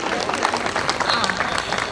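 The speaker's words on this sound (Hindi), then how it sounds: "एक बार आप अपने लिए तालियां बजा दीजिए।" Audience clapping at a village honour ceremony in Dudhaula, Haryana: dense, steady hand claps from a crowd, fairly faint and continuous, with murmured voices mixed underneath.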